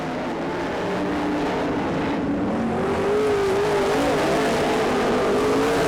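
Race cars roar around a dirt track in a loud, continuous engine drone that swells slightly as they power down the backstretch.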